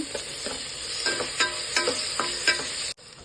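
Onion and tomato frying in a pan for dal fry, a steady close sizzle with repeated stirring scrapes at roughly half-second intervals before stopping abruptly near the end.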